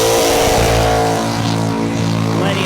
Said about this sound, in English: Another really low, basic rumble from this V8 engine in the Commodore.